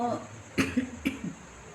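A woman at home sewing gives two short, sharp coughs about half a second apart, close and fairly quiet, after some speech at the start.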